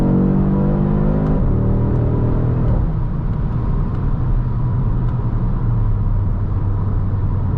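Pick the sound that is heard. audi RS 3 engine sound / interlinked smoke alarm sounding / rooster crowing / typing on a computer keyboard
audi RS 3 engine sound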